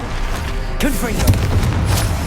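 A Confringo blasting spell explodes in Hogwarts Legacy: one sudden booming burst that then rumbles on loudly for about a second and a half amid the game's other sounds.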